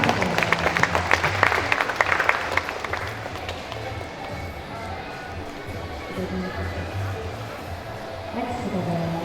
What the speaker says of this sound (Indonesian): boleh kita kasih tepuk tangan dulu